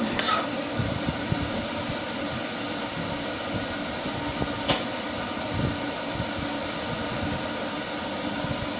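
A pet cage dryer, not yet heated up, runs with a steady broadband whir and low rumble throughout, close and constant with no talking.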